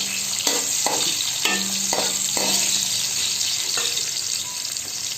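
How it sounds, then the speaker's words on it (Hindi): Raisins, coconut and fennel seeds fry in a pan with a steady sizzle, stirred a few times so spoon strokes scrape through the crackle, close and continuous with no talk. "इन सारी चीज़ों को हम थोड़ा सा फ्राई करेंगे"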